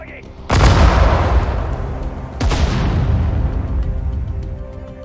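Heavy artillery fire in the WWII strategy game Sudden Strike 4, set in the North African desert at El Alamein: two loud booming blasts roughly two seconds apart, each followed by a long rumbling roll of gunfire, with voices speaking over it.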